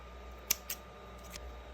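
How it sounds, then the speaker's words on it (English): Two quick, crisp snips of scissors cutting crochet yarn, close up in a quiet room, followed by a faint softer click a moment later. "Cut it off with your scissors"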